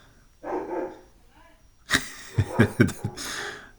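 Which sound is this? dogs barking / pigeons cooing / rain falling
dogs barking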